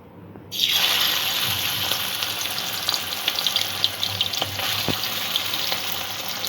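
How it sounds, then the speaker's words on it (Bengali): Marinated shrimp dropped into hot mustard oil in a wok burst into loud, continuous sizzling, with a few spatters and crackles over the steady frying hiss. "চিংড়িটা আগে একটু ভেজে নেব"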